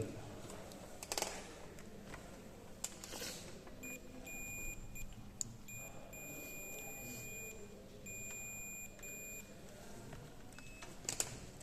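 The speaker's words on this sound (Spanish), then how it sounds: "¿veis que está emitiendo un pitido?" A steady high multimeter continuity-test beep sounds in several sustained stretches over a quiet room hum, with faint handling clicks around it.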